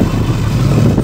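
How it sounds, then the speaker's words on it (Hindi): A 2025 Bajaj Pulsar NS 200 BS7 motorcycle engine pulls hard in third gear on a road, a loud, close, steady growl with no talk over it. "थर्ड गियर पे आ गई है गाड़ी भाई, देख सकते हो"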